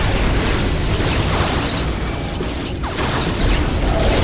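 Incoming enemy fire in the strategy game Dawn of War: Dark Crusade brings dense, continuous rumbling blasts and mechanical clatter, loud and unbroken throughout with no pause between the booms.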